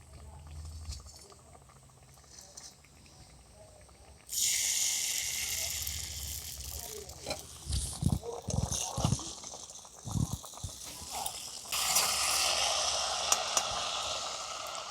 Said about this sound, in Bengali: এইভাবে দুটো তিনটে করে ভেজে নেব।